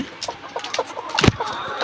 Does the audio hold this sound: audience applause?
no